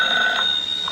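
An old-style telephone bell rings steadily and loudly in a radio drama, a sustained bright tone with no voices over it.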